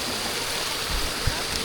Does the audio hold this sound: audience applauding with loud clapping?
no